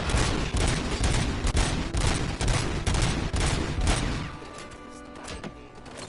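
Gunfire in the video game RoboCop: Rogue City, played on PS5: rapid, loud repeated shots in a dense burst lasting about four seconds, then tapering into a quieter tail with a few fainter thuds.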